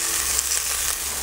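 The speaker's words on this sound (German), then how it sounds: "Gute Zeit später ist dann unser komplettes Fleisch einmal durchgehend angebraten." Meat for Munich-style mustard beef sears in a Dutch oven, giving a steady, close, loud sizzle with faint crackles and no talk.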